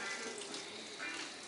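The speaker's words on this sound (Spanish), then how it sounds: "pues sí que le estás echando agua" A kitchen tap runs steadily while lentils are washed, a close, continuous broadband rush of water filling a container with no talk over it.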